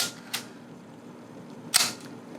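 A Nikon F3/T film camera's mirror lock-up gives two crisp mechanical clicks about a second and a half apart, the second one sharper and louder, against a quiet room.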